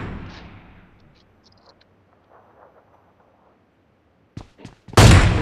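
Gunfire from a shooter video game match, landing body shots: a quiet stretch, then a few sharp, separate shots and a sudden loud, dense burst of fire at the very end.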